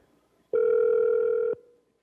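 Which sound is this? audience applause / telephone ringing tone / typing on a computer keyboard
telephone ringing tone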